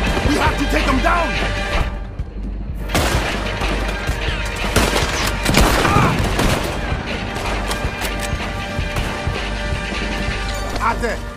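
Rapid gunfire and explosive shots crack through a Red Dead Redemption 2 shootout, dense and loud with crashes and booms, while characters shout over the battle.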